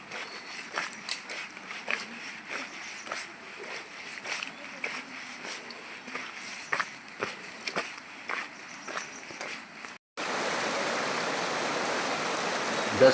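A river rushes at a crossing on the Naneghat trek in forest, a steady hiss under a row of crunching footsteps, then a louder, even wash of flowing water after a brief cut.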